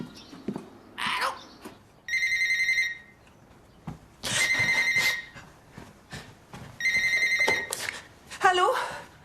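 A telephone rings for an expected weekly call, a bright bell-like trill repeating in three distinct bursts, fairly close, with short bits of speech and movement between the rings.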